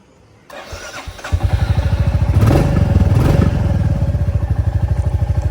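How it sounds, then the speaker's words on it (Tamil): A Royal Enfield Bullet motorcycle is started after about ten days of sitting unused, then settles into a loud, close idle with a steady, even thump. "சவுண்டு கேட்டே ரொம்ப நாள் ஆகுது. என்கிட்ட ஒரு புல்லட் இருக்குதுன்றதே மறந்துட்டேன்."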